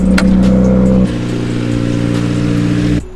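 A Subaru WRX's engine rumbles close and steady as the car is driven outside, with a shift in tone about a second in and the sound cutting off near the end.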